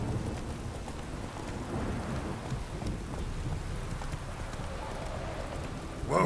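Hooves of Roach, the horse in the video game Witcher 3, a steady muffled clip-clop over a continuous rumbling, rain-like bed of game sound, loud and unbroken throughout.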